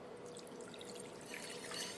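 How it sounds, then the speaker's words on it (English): Water is poured into a salted dry mixture for a lamb tagine, a soft, steady trickle heard close by in a kitchen. "And so if you add the water, and then you're going to whisk all of that together."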